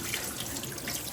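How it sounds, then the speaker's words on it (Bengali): Cold tap water running over boiled pasta in a kitchen sink, a soft steady splashing hiss, faint and brief. "পাস্তাগুলো দিদি এবার ধুয়ে নিচ্ছে ঠান্ডা জল দিয়ে।"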